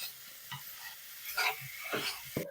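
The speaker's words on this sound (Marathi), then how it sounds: "आपण परतवून घेणार आहोत हे मिश्रण आपल्याला सारखं सारखं परतावं लागणार आहे" A beetroot modak mixture is stirred in a pan, faint and quiet, with a few brief scraping strokes and a soft sizzle in between.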